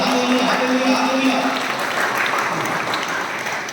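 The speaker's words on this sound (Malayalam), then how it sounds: "കൈയടിച്ചോ." A church congregation claps hands during a parish retreat prayer meeting, a dense, continuous wash of applause filling the space, with voices heard alongside the clapping.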